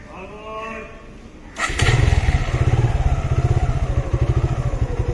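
Suzuki Gixxer motorcycle, fitted with a remote security device, starts up: a voice is heard at first, then the engine catches abruptly and settles into a loud, close, rhythmic idle.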